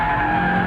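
Tires skid and squeal under hard late braking into the hairpin at Sepang circuit, a loud steady screech lasting under a second, with engine tone beneath.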